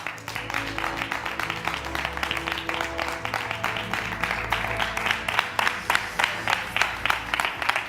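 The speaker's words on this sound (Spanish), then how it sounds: "Un aplauso inmenso, chicos y chicas, para Carlos Muñoz." A crowd applauds steadily throughout, dense clapping that holds at a strong level from start to finish.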